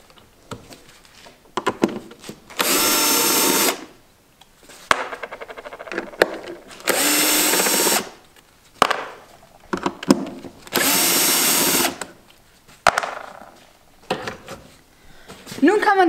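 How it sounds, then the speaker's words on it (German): A power tool with a 10 mm socket spins off the engine cover nuts on an Audi A2 in three loud, buzzing runs of roughly a second each, with clicks and handling noises between them. "Dafür schraubt man die 3 Muttern mit der 10er Nuss ab."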